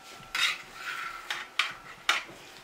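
A knife run along the edges of rolled dough, producing four short scraping strokes against a hard surface, close and moderately loud, with quiet pauses between them and no talking.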